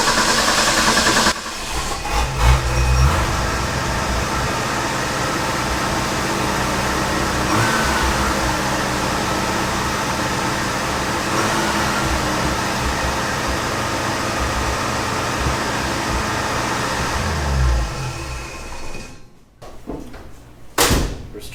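A 1965 Ford F250 service truck engine with a four-speed, long parked, revving high and steady with the air cleaner fitted, loud and close with a hissing intake rush, then dropping off near the end.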